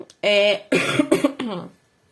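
A series of harsh, throaty coughs in quick bursts from someone recovering from the flu, close up, ending in silence.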